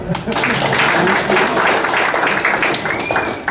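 A bigger round of audience applause at a comedy magic show, dense and fairly loud throughout, with the performer speaking over the clapping.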